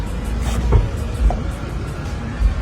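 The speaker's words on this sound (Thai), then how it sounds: "ลูกค้านะคะสามารถเปิดประตูด้วยระบบสมาร์ทคีย์เลสได้เลยค่ะ" A Mazda 2 1.3 SL car door is opened with smart keyless entry in a dealership setting, giving two dull clunks against a steady, fairly loud ambient rumble.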